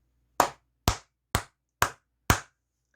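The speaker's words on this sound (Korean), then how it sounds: "우리 모두 크게 박수 한번 치고 가도록 하겠습니다" Five crisp, evenly spaced hand claps ring out one after another in a quiet room, each sharp and close with a short decay.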